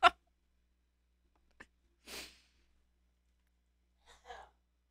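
A single sharp sneeze bursts out at the start, followed by a few quieter breaths and sighs in an otherwise silent room.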